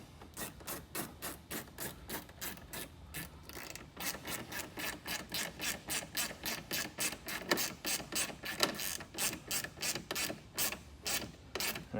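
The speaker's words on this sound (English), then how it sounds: "Then we will go ahead and snug up this 7mm as well." A ratchet wrench snugs a 7mm factory bolt on a plastic car splash guard for a Dodge Demon or Widebody Hellcat, making a fast, even run of close ratcheting clicks, broken by a short pause before resuming, with no talking.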